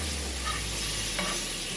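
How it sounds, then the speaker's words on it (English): Garlic sizzles and crackles steadily in a hot pan, a constant close frying hiss with faint stirring scrapes. "See that sizzle?"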